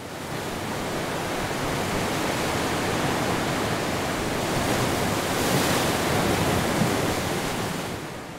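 Rough sea waves crash along a rocky coast in a loud, continuous roar of surf that swells slightly in the middle before easing off.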